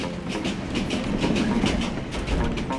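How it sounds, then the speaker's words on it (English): A passenger train in Myanmar runs fast along the tracks at nightfall, with loud, close rumbling and rapid rhythmic clickety-clack beats from the wheels over rail joints. "with darkness falling, the train picks up speed."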